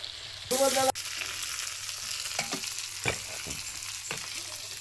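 Tilapia fish frying in a pan over a wood-fired village stove, a steady soft sizzle with occasional crackles and clinks, opening with a brief loud hiss or lid clatter, no talking.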